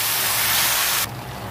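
Water poured into a pan of greens with turmeric, chilli and cumin, a loud steady hissing spray that cuts off abruptly after about a second, leaving a softer sizzle.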